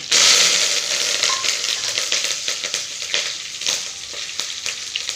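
Dried red chillies, fenugreek seeds and curry leaves fry in hot oil, bursting into a loud, bright sizzle at first, then settling into a steady crackle with scattered pops and stirring ticks.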